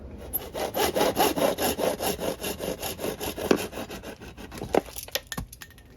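A handsaw cuts down the plastic tube of a toilet fill valve in about fifteen quick, steady back-and-forth strokes, close and fairly loud, ending in a few sharp clicks and knocks.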